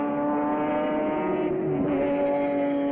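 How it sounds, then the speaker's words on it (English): Touring cars racing at Calder Park in the 1983 Australian Touring Car Championship, a loud, close, steady engine drone with a strong harmonic whine and a slight pitch dip near the end. "There's Peter Brock pulling away, maybe a metre a lap, no more than that"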